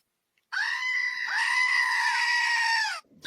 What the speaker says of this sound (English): Goat scream, please.